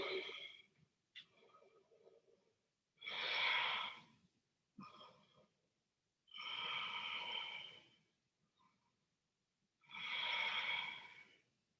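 Slow yoga breathing: four long, loud inhales and exhales about a second or two each, close to the ear, separated by quiet pauses, with fainter short breaths between them.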